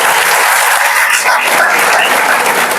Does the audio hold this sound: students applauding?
yes